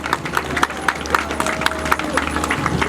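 A graduation crowd applauds outdoors, a steady spread of clapping with irregular louder claps standing out, while voices carry faintly underneath.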